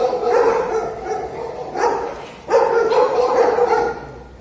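Stray dogs in the streets and neighbourhoods of Ünye, Turkey, bark in a few loud repeated bursts over steady outdoor background noise, with no talking.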